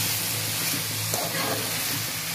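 Tomato, onion and spring onion fry in a pan with a steady, close sizzle that holds evenly throughout, with no voices.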